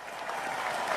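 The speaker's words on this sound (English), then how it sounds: "So how about an extra round of applause for them?" Audience applause at a live food showdown of Chicago Italian beef from Al's #1 Beef, a steady dense wash of many hands clapping at moderate volume throughout, with no talking over it.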